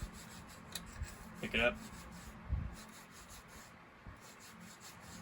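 Rubbing and scraping as a McCulloch Super Pro 81 chainsaw clutch is lapped, worked back and forth in short, soft strokes with brief pauses, close and quiet, and someone speaks briefly.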